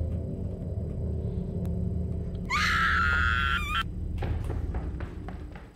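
A loud, high, wavering scream rings out for about a second in Corpse Party: Book of Shadows, a horror video game, over a low, steady ambient drone, followed by a few faint knocks.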